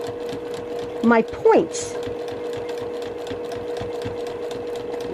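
Domestic sewing machine stitching curved quilt piecing, a fast steady rhythmic needle clatter running throughout, briefly interrupted by a couple of short squeaky sounds and a brief spoken phrase.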